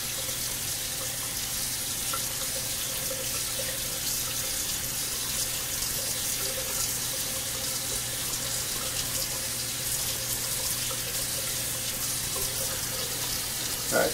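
Steaming hot water pours from a bathroom tap into a ceramic shaving scuttle, a steady, unbroken hiss lasting the whole stretch, moderately loud, with no speech.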